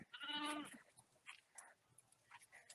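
A sheep gives one clear, close bleat at a farm animal sanctuary, followed by quieter scattered animal noises and faint background sounds.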